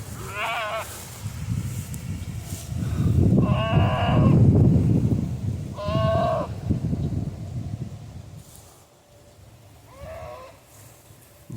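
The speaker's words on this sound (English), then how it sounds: "This goat is just, she must be looking for her baby." A New Zealand Kiko doe in a closed farm herd bleats loudly and repeatedly, several drawn-out calls spaced apart, close by over outdoor rumble with scattered animal noises.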